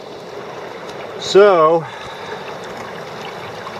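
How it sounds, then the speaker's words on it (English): The Rogue River at high water flows with a steady, moderate hiss of moving water, while someone briefly speaks a single word close by partway through. "Crossing this river at high water stage"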